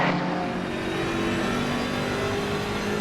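A GT race car engine in a sim racing game drones loudly and steadily throughout, a continuous mechanical roar during a ten-hour endurance race.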